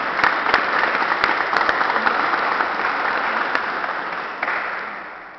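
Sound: audience applause at ceremony

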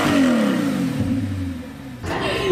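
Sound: car engine revving as the accelerator is pressed

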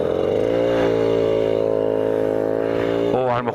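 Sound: motorcycle engine running loudly

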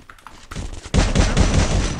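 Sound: gunshots in a video game

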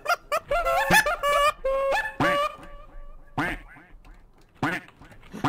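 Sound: players imitating duck quacks in Gmod roleplay

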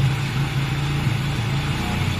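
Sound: motorcycle engine idling and revving unevenly after kick start

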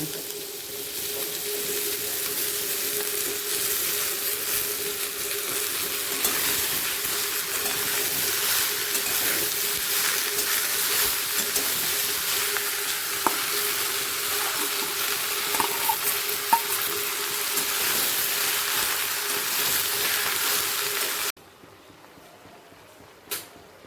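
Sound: bottle gourd frying in pan with potato and onion

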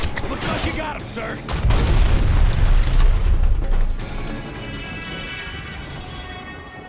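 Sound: grenade explosion in the video game Blacksite Area 51

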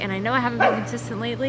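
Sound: dog barking

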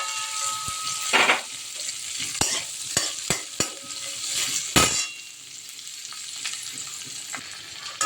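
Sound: ginger garlic onion frying in oil

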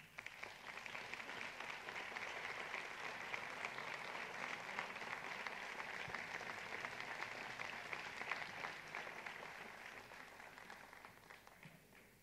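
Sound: audience applauding

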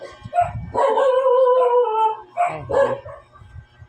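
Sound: dog barking

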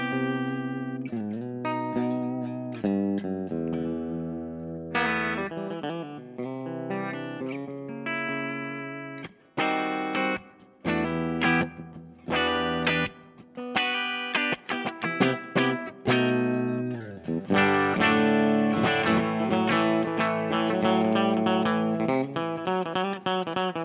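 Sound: Squier Paranormal Esquire Deluxe electric guitar clean tones, humbucker

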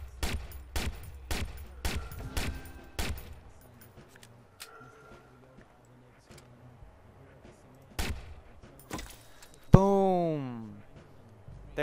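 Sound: sniper rifle shots in Watch Dogs video game

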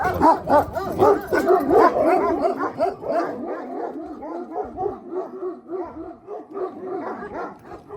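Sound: dogs barking and fighting

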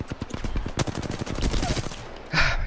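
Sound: gunfire in the video game Apex Legends

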